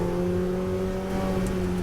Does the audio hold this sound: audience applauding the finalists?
no